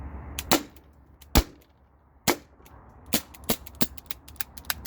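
T4E HDP50 pistol running on CO2 and firing impact-test rounds, about a dozen sharp, close cracks at uneven intervals, some isolated and some closer together toward the end.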